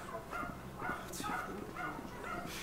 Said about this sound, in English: And the neighbor's dogs are going.